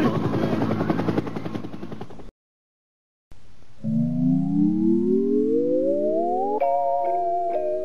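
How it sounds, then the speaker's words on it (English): A helicopter in the video game Ark flies with a steady tonal drone that rises in pitch as it speeds up, preceded by a loud burst and a brief gap of silence. "Helicopter, helicopter."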